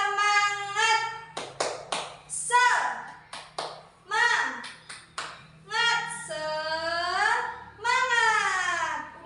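Children in an Indonesian classroom doing a rhythmic clapping chant, sharp claps alternating with sung, chanted phrases in a lively pattern, voices carrying over the clapping.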